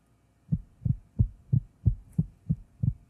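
Eight soft, evenly spaced low ticks come from a weakly swinging balance wheel in a 90-year-old watch under restoration, faint and close, at a slow steady rhythm.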